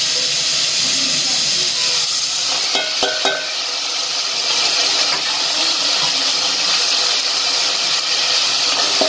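Goat meat hits a hot pot for pulao, setting off a loud, continuous sizzle and hiss, with a short burst of clatter and rustle partway through.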